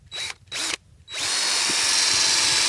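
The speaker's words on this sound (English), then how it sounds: "we want to drill it on an upward angle" A power drill boring a tap hole into a maple tree starts with short bursts, then runs steadily at high speed, loud and close, with no talking.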